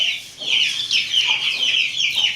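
Pet hens cluck repeatedly in short, bright bursts at close range, several birds overlapping in an uneven, restless rhythm with no talking.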